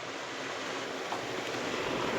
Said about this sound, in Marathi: फॅन चालू आहे